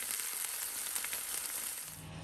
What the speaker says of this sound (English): I'm just frying off some smoked bacon in olive oil and tomato puree